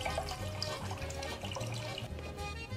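One litre of water pours steadily and continuously into a pot for making polenta, a dense, close splashing rush with no talk.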